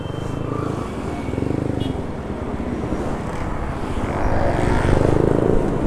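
A Yamaha NMAX contest-modified scooter engine on a Sunday morning group ride in Palembang, a continuous droning engine hum with a gradual rise in pitch and loudness toward the end, heard alone with no talk.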